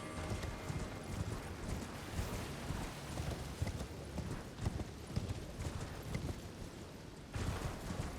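Horse hooves clip-clop steadily in a video game, a dense, continuous run of fairly loud beats with no speech over them.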